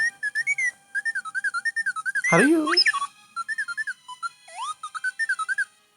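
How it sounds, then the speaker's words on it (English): A utility droid in the Star Wars KOTOR 2 video game lets out a long run of rapid warbling whistles and chirpy beeps, with one sharp swooping squeal partway through; a voice briefly speaks. "there's a series of low-pitched whistles and beeps"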